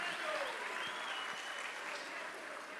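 Sustained applause from a church celebration audience fills the space, steady and dense, with some voices mixed in beneath the clapping.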